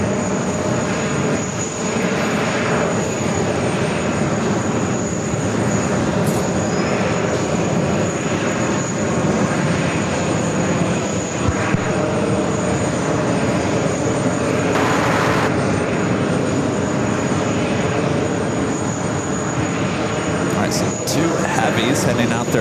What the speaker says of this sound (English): Also an American Dreamliner. The Dreamliner's heading off to Tokyo, Haneda.